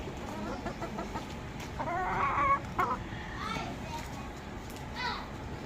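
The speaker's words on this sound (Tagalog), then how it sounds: "Tingnan nyo din mga inahin natin." Backyard hens cluck in short bursts amid a busy outdoor backdrop, with children's voices and chatter mixed in throughout.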